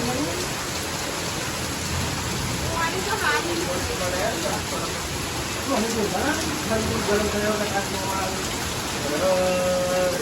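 Heavy rain falls in a steady, dense hiss outdoors, with voices talking over it throughout.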